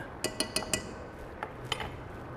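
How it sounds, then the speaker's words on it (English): A utensil stirs corn slurry into a pot of chicken tortilla soup, giving a few light metallic clinks against the pot early on, then softer scattered taps over a low background hiss. "Mix that in and get it just a little bit thicker to finish it off."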